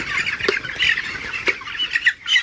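A young poultry-farm chicken of about one kilogram squawks and clucks in sharp repeated bursts as it is caught by hand, close and loud, with a faint flutter.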